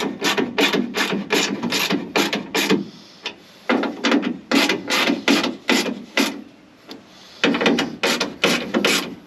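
Bolts on a window regulator inside a 1968 Pontiac Firebird door being snugged up with a ratchet, a close run of rapid clicking bursts with short pauses between them, no talking.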